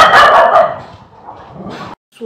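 A frightened, distressed dog gives a loud, close bark followed by a low, sustained growl that cuts off abruptly, then a faint rustle.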